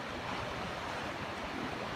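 Ocean waves at Ocean Beach, San Diego, near Sunset Cliffs, roar in a continuous broadband wash of surf, steady and fairly close, with wind buffeting the microphone and no voices.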